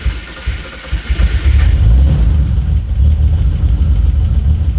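Turbocharged SOHC Ford Fairlane engine revving nearby, a loud, deep rumble that swells sharply and holds at a heavy, fluttering idle-to-rev pitch.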